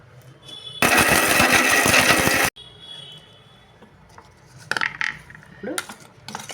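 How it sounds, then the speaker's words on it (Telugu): A loud mixer grinder grinding dry spices for bitter gourd spice powder roars for under two seconds, its rattling whir stopping abruptly, followed by quieter clinks and handling sounds. "ఇప్పుడు మిక్సీ వేసుకున్నాను"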